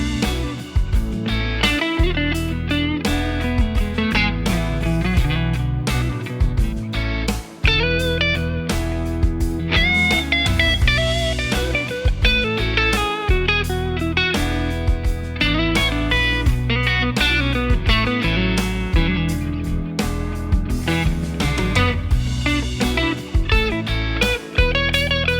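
Electric guitar played through a Dumble Steel String Singer amplifier, dense sustained notes and chords with plucked attacks and ringing harmonics, loud and continuous throughout with no voices.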